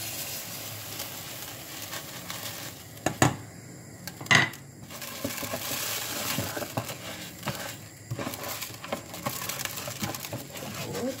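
Basmati rice pouring into a pot of boiling salted water, a soft rushing patter with a couple of sharp clinks against the pot, over a steady bubbling hiss.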